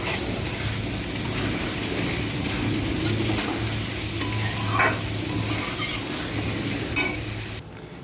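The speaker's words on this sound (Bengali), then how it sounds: "চিংড়ি মাছ কটা ভেজে নিলাম" Prawns fry in a hot pan with a loud, continuous sizzle and crackle, stirred now and then with a brief utensil scrape before the sound drops away at the end.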